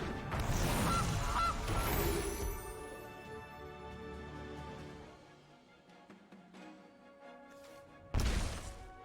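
A goose honks as the Gilded Goose card is played in an online card game, followed by a fading effect tail and a sharp thump near the end.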